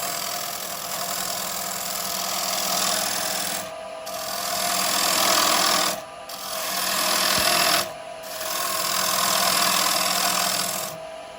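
A carbide turning tool cuts a wooden bowl on a lathe, giving a continuous close scraping, hissing rasp over the spinning hum, broken by several short pauses as the tool lifts away.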